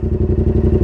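A motorcycle engine idles just after starting, with a rapid, even, close chugging pulse over less than a second.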